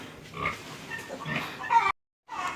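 A sow that has just given birth on a backyard hog farm, grunting several times up close in low, breathy bursts. The grunts are followed by a brief silent gap and then another grunt.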